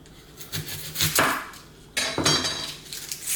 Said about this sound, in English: So now we're gonna chop some onions.